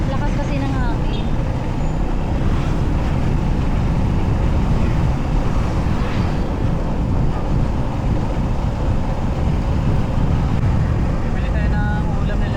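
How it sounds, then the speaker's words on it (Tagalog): Strong wind gusting outdoors in cold weather in New Zealand, roaring steadily at full loudness across the whole stretch, with broadband buffeting over the microphone and no pause. "Lakas kasi ng hangin."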